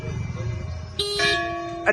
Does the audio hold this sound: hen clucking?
no